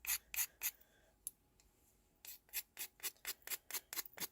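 Chalk pastel being scraped over paper for embossing and soft pastel techniques, heard as a series of close, dry, rhythmic rasping strokes, a few at first and then a steadier run after a brief pause.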